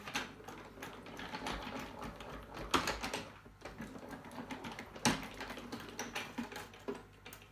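A metal quilting die run through a manual die-cutting machine, giving a steady ratcheting, clicking mechanical grind with two sharper clunks along the way, close and fairly quiet.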